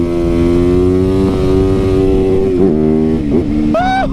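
Motorcycle engine running steadily and close, holding a sustained drone and then blipping through quick revs and shifts, heard alone with no talk over it.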